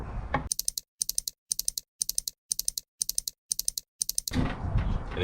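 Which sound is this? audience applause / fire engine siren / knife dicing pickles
knife dicing pickles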